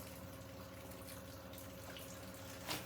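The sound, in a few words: water coming out of a plumbing water line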